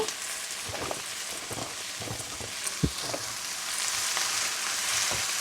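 Cabbage, arugula and pak choy sauté in a pan with a soft continuous sizzle, while a utensil stirring the greens adds scattered scrapes and taps, fairly quiet and close with no speech.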